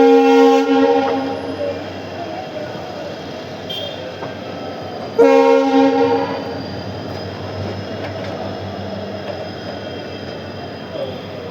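Rajkot-Porbander Express hauled by a WDG4D diesel locomotive arriving at Bhaktinagar station, sounding two loud, long harmonic horn blasts, one at the start and one midway, over steady rumbling rail noise.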